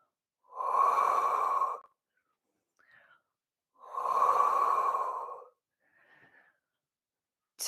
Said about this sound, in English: you inhale as you go back, you exhale to go forward and down